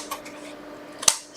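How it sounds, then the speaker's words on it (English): A pair of long scissors cuts through card at a crafting table, a faint soft slide followed by one sharp, crisp snip near the end. "So I got myself a nice pair of long"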